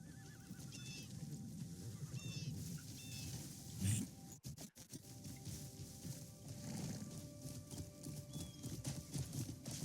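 Horse hooves clip-clopping in the video game Crimson Desert, a quiet, steady hoof rhythm with faint game ambience and a brief dropout near the middle.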